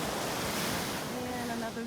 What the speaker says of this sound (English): And I'm strolling along the beach.